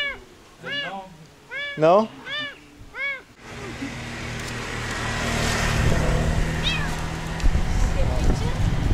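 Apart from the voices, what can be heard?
cat meowing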